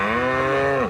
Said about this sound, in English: I counted these cows 15 times and only came up with 17.